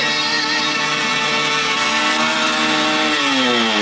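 A motorcycle engine revs and drones steadily at close range in a stunt scene from the film Roar, the pitch shifting and climbing toward the end with no talk.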